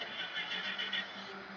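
A mid-pitched engine whirrs steadily as engines start up in the Tuneland game. The sound is short and even, with no voices over it.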